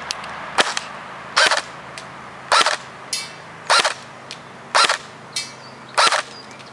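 CYMA MP5 airsoft gun fired semi-automatic at a bottle outdoors: six sharp single shots spaced about a second apart, each followed by a fainter smack of the pellet hitting, with no talking.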